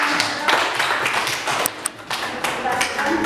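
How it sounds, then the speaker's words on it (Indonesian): A classroom audience of students claps for a presenting student group, a dense patter of hands lasting a few seconds, with voices mixed underneath. "Kita kasih aplaus untuk kelompok Anggrek"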